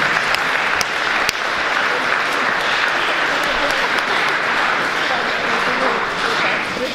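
Sustained applause from a large audience at a school awards ceremony for top high schools, dense and steady throughout, with a few sharper claps standing out.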